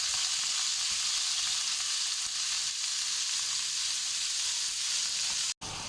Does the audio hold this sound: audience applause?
no